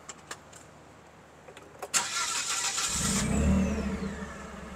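A Lift Hero L35GLT 8,000 lb propane (LP) forklift engine cranks with a sharp click, catches and settles into a steady idle that rises to a louder rumble, close by after a few quiet clicks.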